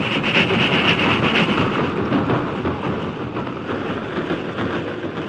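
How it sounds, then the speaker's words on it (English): A train rumbles along the tracks in a 1952 radio drama, a broad, steady roar and faint rhythmic clatter, loud at first and slowly easing. "The engine reached the crest of Jackknife Hill and continued westward without incident."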